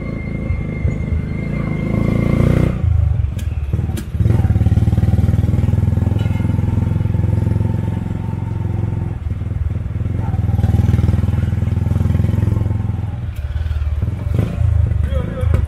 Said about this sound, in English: You can have the bicycle, trikes, or this motorcycle, tricycle